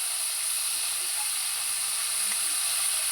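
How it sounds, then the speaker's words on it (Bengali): Continuous loud hissing sizzle of eggplant and potato frying in hot oil, steady and close throughout without pauses. "তো দেখো এদিকে বেগুন আলু ভাজাটা হতে থাক"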